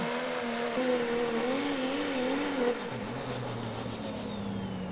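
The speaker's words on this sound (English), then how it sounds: "This truck makes a ton of horsepower, and here he is pulling out" A 1941 Dodge pulling truck with a non-stock, high-horsepower engine at a truck and tractor pull revs hard, its pitch wavering, then drops and settles into a lower steady drone as it pulls out.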